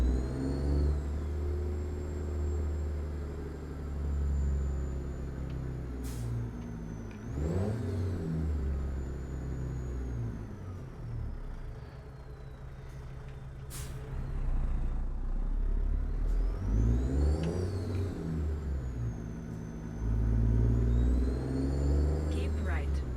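A heavy truck towing a trailer in American Truck Simulator pulls away in high range, its deep engine rumble climbing through several rising rev sweeps and gear changes, with someone talking and navigation prompts over it.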